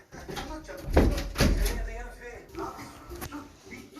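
A few dull knocks land on a door in the House Flipper video game, spaced apart and partly buried under ongoing talking.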